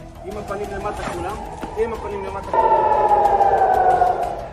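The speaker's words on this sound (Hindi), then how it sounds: "पूरा जेरूसलम हवाई हमले के सायरनों से गूंज रहा है।" A wailing air raid siren in Jerusalem rises over a noisy scene with clattering and voices, then a louder steady siren tone cuts in and holds for the last couple of seconds.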